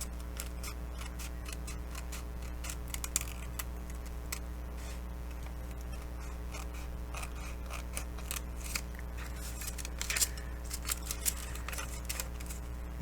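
Scissors snip through paper in quick, irregular clicks and crisp cuts, close up, over a steady low hum.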